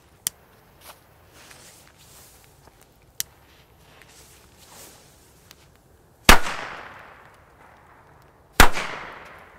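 Two sharp, loud firecracker bangs ring out a couple of seconds apart, each trailing off in a brief echo, after a stretch of faint ambient crackles.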